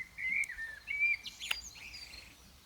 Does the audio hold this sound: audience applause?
no